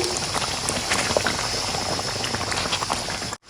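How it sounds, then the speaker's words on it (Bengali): Raw mango pickle with beet salt and vinegar bubbling on the stove, a dense, continuous close boil with small popping bursts, heard alone until it cuts out at the end. "আরও পাঁচ মিনিটের মতো জাল দিব"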